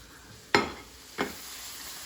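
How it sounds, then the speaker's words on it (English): Chicken cutlets for piccata browning in a pan give a quiet, steady sizzle with two sharp, brief hissing bursts about a second apart as pieces hit the hot fat or get moved. "I'm going to brown these about 3 minutes on each side and take them out."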